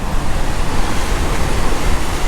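Ocean waves roll onto the coast at Mazatlan, Mexico, a steady, full broadband wash of surf with slight wind, continuous and fairly loud with no voices.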